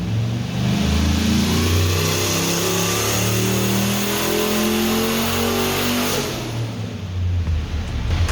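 A backyard-built turbocharged LS1 V8 on a dyno at about 12 psi of boost roars loud and close, revving steadily upward through a long pull, then backs off near the end.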